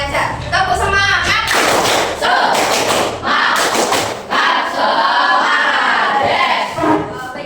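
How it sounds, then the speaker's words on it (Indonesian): A classroom of students performs a rhythmic spirit-clapping chant, loud bursts of claps and thuds mixed with group shouting that comes in several waves, with voices throughout. "Tepuk semangat bisa nggak?"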